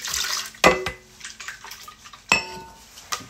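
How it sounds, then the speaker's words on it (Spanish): Water sloshes and swirls in a blender jar being rinsed, with a few sharp clinks and knocks of glass or plastic, two louder bangs among the splashing. "vamos a enjuagar tantito la licuadora con este poquito de agua"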